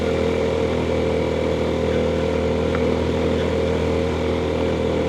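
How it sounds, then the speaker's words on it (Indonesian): Steady, loud motorcycle engine drone heard while riding on a trip to Bromo, a continuous even hum with wind rush and no break in the noise. "Sekalinya ada kesempatan naik motor pula"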